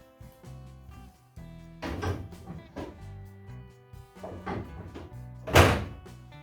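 Someone working a door while fitting it, with a series of thunks and knocks as it is moved and shut, ending in one louder sharp bang, all close by against a faint steady hum.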